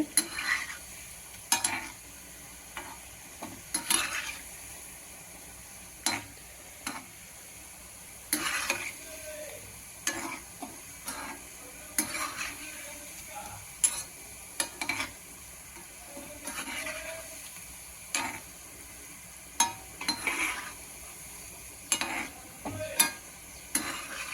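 Sweet crispy seedai deep-fry on a medium flame with a soft, low bubbling sizzle, punctuated by frequent sharp clicks and taps of a ladle stirring the pot.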